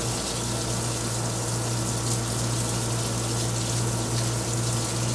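Coolant gushes wide open over a Yang CNC slant-bed lathe while it cuts a knurl, a steady loud wash of spraying liquid with a constant machine hum underneath, running unbroken throughout.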